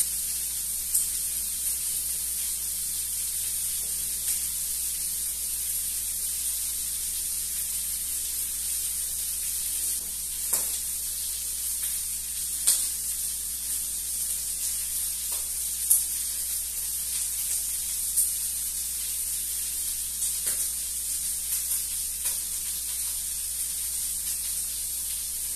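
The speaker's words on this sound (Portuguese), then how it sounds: "Já vou dar uma fritada nessa calabresa" Smoked calabresa sausage frying in its own fat in a pan, a constant bright hiss with sparse small pops and crackles over a low steady hum, no talking.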